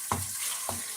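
Mixed vegetables for jollof rice stirred in a pot, two short scraping strokes about half a second apart over a steady soft sizzle, close and quiet.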